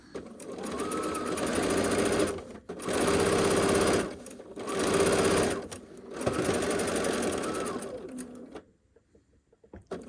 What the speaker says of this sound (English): One more stitch and sink the needle, turn around.